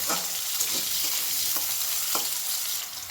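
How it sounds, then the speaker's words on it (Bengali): Long-cut potatoes fry in oil over a high gas flame with a steady, loud sizzle, and occasional soft scrapes of stirring come through. "আলু গ্যাসের ফ্লেমটাকে হাইতে করে আলুটাও বেশ ভালো করে লাল লাল করে কিন্তু ভেজে নেব"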